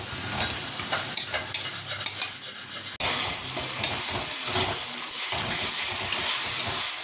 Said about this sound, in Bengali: আলুগুলো ভাজা হয়ে গেছে, তুলে নিয়ে সোয়াবিনটা ভেজে নেবো